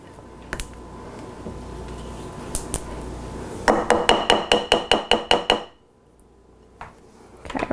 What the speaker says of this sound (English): I'm going to scrape down the sides too.